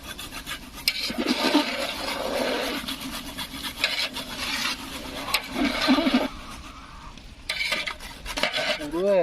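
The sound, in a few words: grating nutmeg into chicken korma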